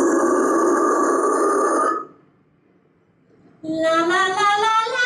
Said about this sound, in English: if we use these two placements on the false chords, it's going to sound like this.